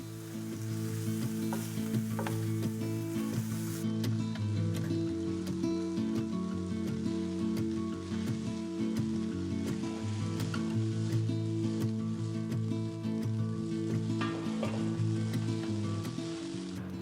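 A rice dish with soy sauce sautés in a pan, giving a steady, close hiss with light crackling and faint stirring taps throughout, over a low, even hum, and no one speaks.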